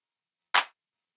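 A single drum machine clap sample with mids boosted by EQ, a sharp, bright noisy burst with a quick decay, isolated against silence.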